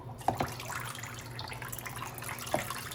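Water runs steadily from a tap or hose while orchids are watered, a continuous broadband splashing flow with a few brief louder drips and knocks near the start and again toward the end.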